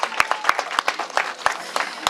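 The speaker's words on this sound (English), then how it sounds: "Give him a big round of applause." An audience applauds at a school gathering at HD Woodson in Washington, DC, with sharp individual claps ringing out in a loose, uneven rhythm.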